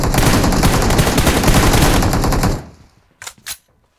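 Rapid automatic gunfire from PUBG Mobile rattles loudly and continuously for about two and a half seconds, then stops, followed by two short, sharp bursts.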